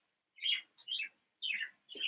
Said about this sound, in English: Joined here tonight, as always, by Soup Spoon the Bird.